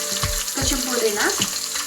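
Onions and green chillies with a little mint frying in a pan for chicken pulao, a steady sizzle with scraping stir strokes at a steady rhythm, close and fairly loud.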